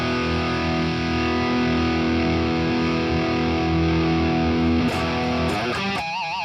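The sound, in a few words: electric guitar lead tone through a custom amp plugin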